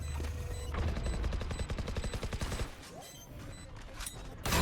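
Valorant gunfire in a competitive esports match, a rapid burst of rifle shots landing a headshot, followed by scattered further shots over a steady game ambience.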